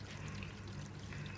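Water pours steadily into a washing machine drum during a disinfecting spin cycle at home, a continuous close rushing stream with a low hum underneath, no voices.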